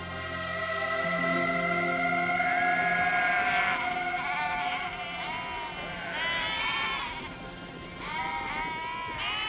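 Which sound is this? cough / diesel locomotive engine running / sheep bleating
sheep bleating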